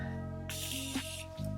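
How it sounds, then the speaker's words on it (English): A single short spritz of setting spray onto a makeup brush gives a sharp hiss lasting under a second, heard close up over a quiet steady indoor hum. "I'm just gonna go ahead and spray the brush"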